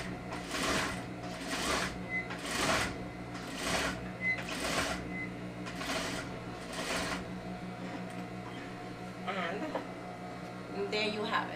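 A sewing machine stitches a flat felled seam through fabric in fast, close bursts of needle clatter, about seven runs separated by short pauses, followed by a few quieter mechanical clicks with a steady low hum running underneath throughout.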